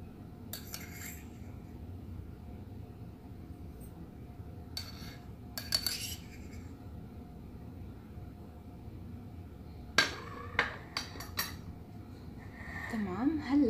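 A spoon clinks against cups while a spoonful of chia seeds goes into each one, with scattered short clinks and taps standing out over a soft, steady kitchen hiss.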